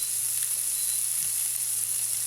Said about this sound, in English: we're going to cook these down in that wonderful bacon fat until they're nice and soft